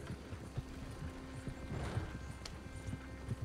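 In the video game Red Dead Redemption 2, horse hooves clip-clop in a quick, uneven rhythm at close range, with a short breathy snort or whinny in the middle.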